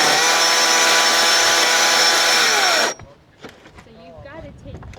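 A chainsaw roars at high, steady revs while cutting logs for about three seconds, then cuts out abruptly, leaving quiet handling noises and faint voices.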